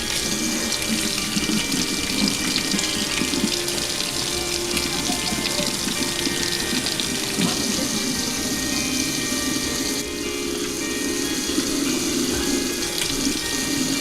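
Hot tap water pours steadily over a frozen Rubik's cube, a continuous close rush and splash at a sink that holds nearly unchanged from start to finish.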